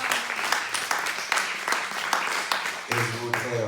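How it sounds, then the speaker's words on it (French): A congregation at Sunday mass with healing prayer claps loudly and steadily, with distinct rhythmic hand strikes in a reverberant space, and a voice and music entering near the end. "On peut applaudir très fort Jésus, le roi des rois, le Seigneur des seigneurs."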